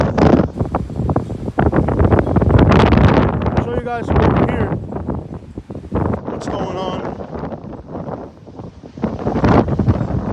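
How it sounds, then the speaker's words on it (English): Strong hurricane wind on Anna Maria Island, Florida batters the microphone in loud, roaring gusts with low rumbling buffets, and brief voice fragments surface between the blasts. "It's getting windier than crap, man."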